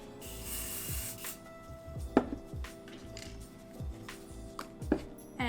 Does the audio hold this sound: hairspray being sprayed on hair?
yes